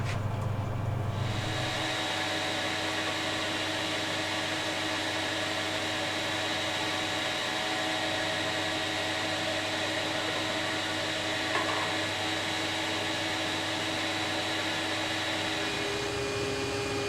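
A 180 grit sanding disc works the inside of a wooden hollow form, making a steady, close whirring drone with a bright hiss that holds evenly for the whole stretch.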